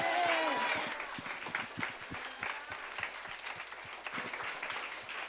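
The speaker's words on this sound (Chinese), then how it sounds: "那最后，我们用最大掌声献给我们的上帝" Loud, sustained applause fills a church as the congregation claps together at a Sunday service, strongest at the start with a brief voice rising above it, then steady clapping continuing.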